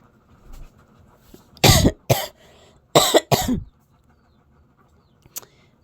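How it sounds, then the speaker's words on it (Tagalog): Four loud, close coughs in two quick pairs from a feverish person, over faint background room noise. "Pasensya na po guys, inuubo ako"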